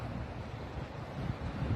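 Sea waves break against rocks along a Norwegian coastal road, heard as a dull, rumbling surf mixed with heavy wind buffeting, fairly loud and continuous.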